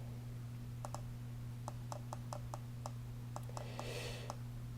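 A computer mouse clicks in short irregular bursts of single and double taps, quiet and close, over a steady electrical hum with no talking.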